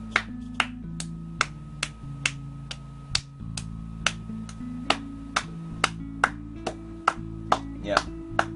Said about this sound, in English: I'm just gonna keep clapping.